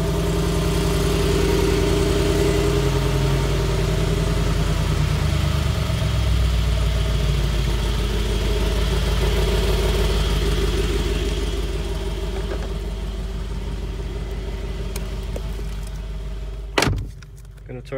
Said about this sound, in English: Let's take a listen to that exhaust.